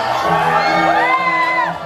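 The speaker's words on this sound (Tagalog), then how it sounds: "Isang malakas na sigawan!" A crowd at an 18th birthday party cheers and shouts, loud close whoops and high-pitched voices overlapping in one burst that holds briefly and then fades slightly.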